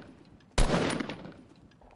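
Gunfire in a video game: a single abrupt, loud shot or short burst after a quiet moment, followed by a rumbling decay that fades over about a second.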